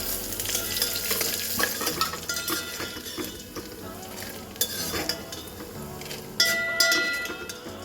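Chana dal and dried red chillies frying in oil in a pan, a steady close sizzle with scraping and clinks of a stirring spoon against the metal.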